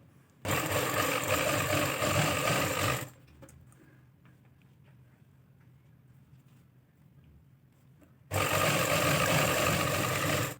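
A sewing machine stitches along the edge of a folded fabric strip for a trouser hem, loud and close in two steady runs separated by a quieter pause of handling.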